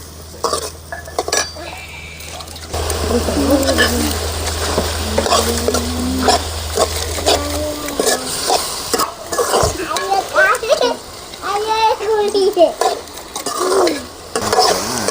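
Tomatoes sauté and sizzle in a pan for a spicy chutney while a spoon stirs and scrapes against the metal, with clinks and frying hiss throughout and a voice talking briefly in the middle.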